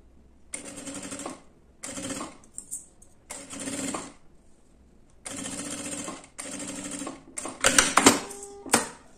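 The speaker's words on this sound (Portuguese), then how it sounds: "Agora, nós vamos passar uma costura para segurar esse zíper na parte principal." Sewing machine stitching a zipper onto the main fabric of a small handmade bag, running in several separate bursts of steady mechanical whirring with short pauses between, closing with quicker, louder stitching runs.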